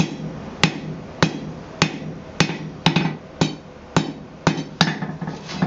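Sharp metallic hammer blows on an anvil, flattening metal while forging blacksmith tongs, ring out one after another at a steady, unhurried pace, about ten strikes, close and clear with a brief ringing decay.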